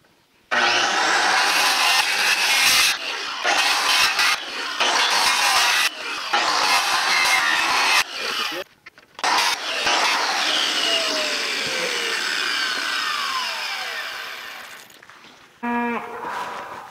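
Holes are sawn into greenhouse pipes for a climate battery build: loud, gritty, rasping cutting strokes run in bursts with brief pauses between them, ending in a short squeal.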